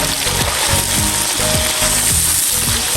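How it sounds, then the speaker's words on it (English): Onions fry in seasoned hot oil over a firewood fire for party jollof rice, giving a loud, constant sizzle broken by regular scraping, ratchet-like stirring strokes. "I'm going to add my onions inside so that we can also release the onion juice inside."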